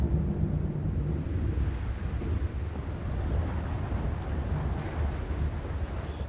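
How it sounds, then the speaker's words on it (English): Dense, steady wind in the horror game Amnesia: A Machine for Pigs, a constant low roar that swells and settles without break, loud and alone with no talking. "Okay, it's the wind. Just the wind."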